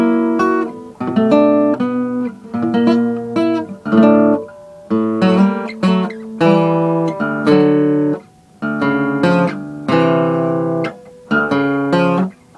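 An acoustic guitar plays the intro to a song: bright strummed chords in a bouncy, stop-start rhythm with brief pauses between phrases. It is loud and close, with no talking.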